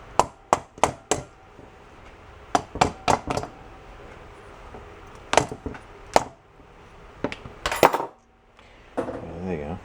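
Sharp metallic taps on the brake drum of a 1972 Honda SL125 motorcycle, struck to free the fins, ring out in irregular bursts of two to four knocks with short pauses, close and loud, without talk.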